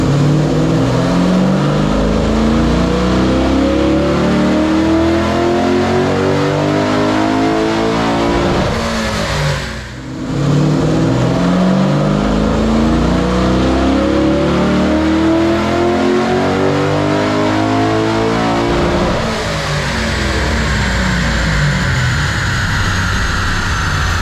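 An LS3 V8 swapped into a BMW E90 with a BTR intake manifold roars loudly and steadily under load on a dyno, with a brief dip around the middle of a long, continuous pull and no talk.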